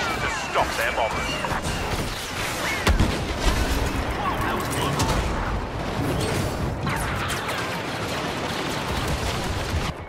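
Explosions and impacts from a Y-Wing bombing attack in Star Wars Battlefront, a chaotic mix of booms, crashes and scattered gunfire under spoken radio voices, with a heavier blast partway through.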